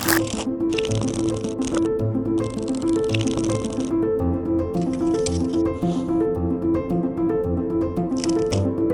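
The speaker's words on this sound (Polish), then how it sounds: "teraz jest moment, kiedy mogę potasować te karty i zrobić Wam magię" Shuffling of an Avengers-themed deck of playing cards by a magician, steady riffling and rustling bursts close up with a musical background underneath throughout.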